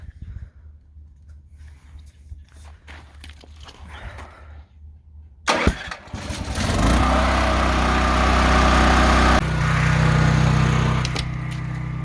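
A small propane generator, its propane bottle freezing up in a winter storm, sputters quietly, then catches and runs with a rough, uneven drone that rises and wavers, sounding close by.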